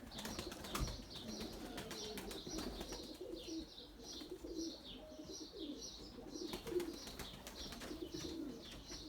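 Domestic pigeons, including white tumbler pigeons, coo in soft repeated phrases at a loft while brief bursts of wing flapping come and go, all fairly faint with no talk.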